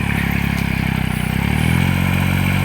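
An old Japanese Kubota L2002 tractor engine runs steadily in a wet rice paddy, a loud, close diesel chug with a rapid even pulse and a low drone that deepens slightly partway through.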